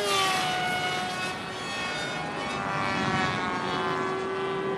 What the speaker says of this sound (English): It's a very fast plane